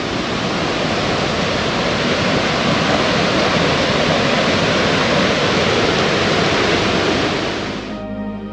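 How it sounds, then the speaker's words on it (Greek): A dense, continuous roar of a rushing river mixed with heavy rain in the Peloponnese, Greece, loud and steady throughout before fading slightly at the very end. "Νάτος και ο ποταμός, η βροχή έχει αρχίσει για τα καλά"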